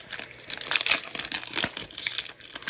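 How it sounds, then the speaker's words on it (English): A pack of 2023 Score football cards being torn open, with close, continuous crinkling and ripping of the foil wrapper. "let's kick things off with our first pack of 22 cards"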